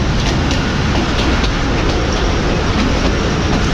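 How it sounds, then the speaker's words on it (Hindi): Pakistan Express passenger train rolling slowly through a large junction yard at Sammasatta, loud steady rumble and wheel noise with faint rhythmic clatter over track joints, heard from on board. "यार्ड स्पीड को फॉलो करते हुए ट्रेन आगे बढ़ेगी"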